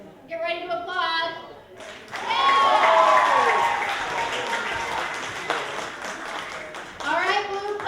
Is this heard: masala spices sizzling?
no